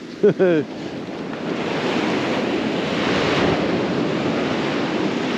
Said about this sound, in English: The old tide's coming in now.